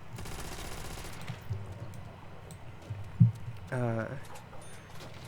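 Gunfire from the video game Deep Rock Galactic sounds faintly in rapid bursts against a low background hum, with a person talking quietly over it.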